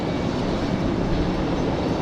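A Boeing 757 airliner at Raleigh-Durham International Airport gives a steady, broad engine roar that holds at an even loudness throughout, with no voices.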